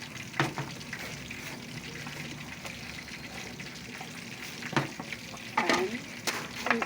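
Vegetables for chop suey, including green beans, are stirred in a sizzling pan, with soft scraping strokes and a few sharper utensil clatters over a steady frying hiss.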